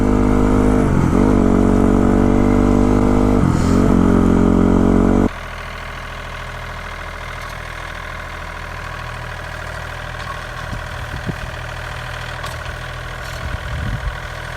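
A motorcycle engine revs loudly in a steady roar while pulling a wheelie, then drops abruptly to a lower, quieter drone of engine noise with scattered clatter for the rest of the stretch.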